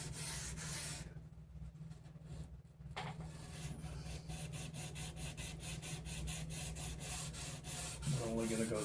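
Sandpaper rubs across a wooden bass guitar body, progressing through fine grits such as 400, with steady rhythmic back-and-forth scrubbing strokes heard close up, a brief pause early on and a low hum underneath.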